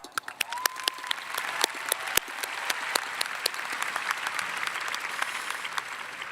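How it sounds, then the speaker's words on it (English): A large audience applauds at a high school graduation ceremony, with many hands clapping densely and continuously and sharp individual claps standing out against the steady, crowd-wide patter. "Please join me in thanking our friends and family and all those who have helped us reach this momentous occasion with a round of applause."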